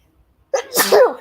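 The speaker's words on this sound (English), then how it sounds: "I'm getting ready to sneeze" A single loud, close sneeze: a sharp inhale then an explosive burst, alone after a brief silence.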